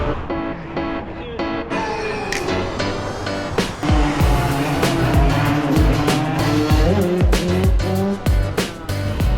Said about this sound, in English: get some motorbikes that make some noise